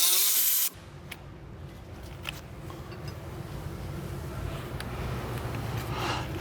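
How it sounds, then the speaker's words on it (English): An electric ratchet spins brake bolts loose on the front brakes of a 2002-2005 Mk4 Volkswagen Golf GTI, a steady mechanical whir running close and continuous for about six seconds after a sudden start. "Just going to put an electric ratchet on it to get them the rest of the way off."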